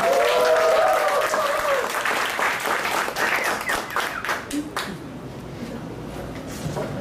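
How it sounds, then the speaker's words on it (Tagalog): Audience applause and clapping at a technical training session, strong at the start and then tapering into a few scattered claps before fading away, with a voice heard early on. "Pwede ba tayong pumalakpak ng malupit na malupit?"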